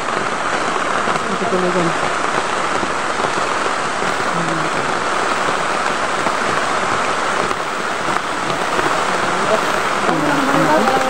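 Rain falls steadily outdoors as an even, hissing patter on surrounding surfaces, continuous throughout, while people talk intermittently nearby.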